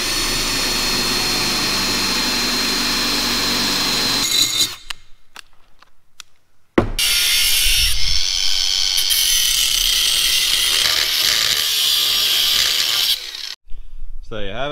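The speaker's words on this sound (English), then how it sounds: "use a grinder, just a battery grinder to grind it out" A loud, high-pitched battery angle grinder whines and grinds steadily on metal flat bar, cutting out briefly partway through, then resuming before a final short stop and restart.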